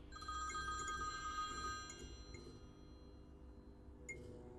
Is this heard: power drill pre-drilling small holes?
no